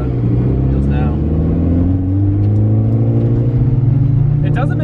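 A Mitsubishi Evo 5 with overhauled suspension drives on back roads, its engine droning steadily from inside the cabin with slight pitch rises, while someone talks over it.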